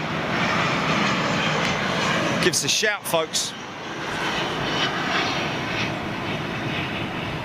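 An Emirates jet airliner's engines roar steadily at London Heathrow after pushback, a constant broadband rumble with a person briefly talking over it.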